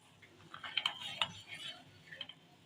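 A spoon stirs hot milk in a metal pot after tartaric acid goes in for homemade rasgulla, giving a quiet run of light scrapes and soft clinks close by, with one sharper tap near the middle.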